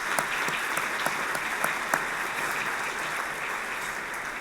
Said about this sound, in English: Let's give a round of applause to our elected officials.